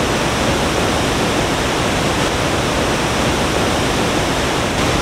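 Waterfall in Chiapas, Mexico: a dense, constant roar of falling water, loud and close, a steady broadband rush with no voices.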